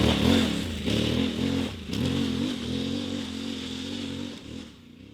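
Aprilia Tuareg 660 Rally middleweight adventure motorcycle engine off-road, a steady loud droning rumble that rises and dips with throttle changes and fades slightly near the end, with no talking.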